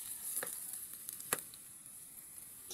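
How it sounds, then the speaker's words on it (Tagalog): Ginger sautéing in hot cooking oil makes a faint, steady sizzle, broken by a couple of sharp spoon or spatula taps, with no voices. "Una natin igigisa ang luya."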